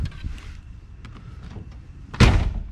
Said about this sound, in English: Go ahead, shut your door.